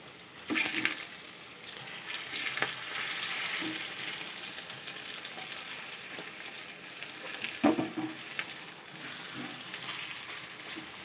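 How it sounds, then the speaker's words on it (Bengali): Banana flower fritters fry in hot oil in a pan, a steady close sizzle with a few louder spatters and scraping bumps as they are turned, with no voices. "আবার একদিকটা ভাজা হয়ে গেছে এবার অন্য দিকটা উল্টে দিচ্ছি"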